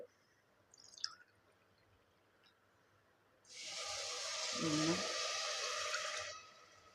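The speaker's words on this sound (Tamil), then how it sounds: "இப்போ நம்ம தண்ணி சேர்த்துக்கலாம் வெண்பொங்கலுக்கு" After a couple of faint clinks, water pours steadily into a pot for making ven pongal for about three seconds, a bright gushing splash that then stops.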